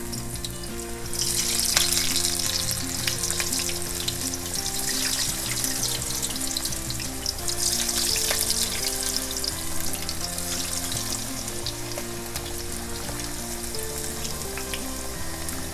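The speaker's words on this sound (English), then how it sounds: "we're going to start frying these up" Potato slices frying in oil for Greek moussaka, a dense continuous sizzle close by over a low steady hum, lasting throughout without speech.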